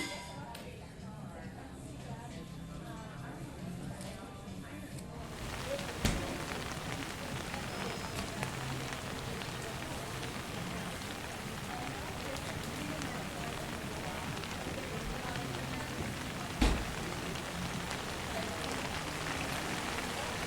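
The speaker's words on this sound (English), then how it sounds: "The next day it was still raining on and off" Steady rain falling on hard surfaces in an Oregon coast town, a dense continuous patter that swells after a quieter start, with a couple of sharp knocks.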